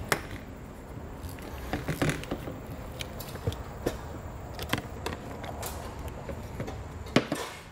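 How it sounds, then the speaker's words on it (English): Metal snips cutting a section out of a 2015 Honda Civic for a hidden trailer hitch, irregular sharp snaps and creaks scattered over quiet handling noise, close by. "Now we'll just take our snips and we're going to snip it out."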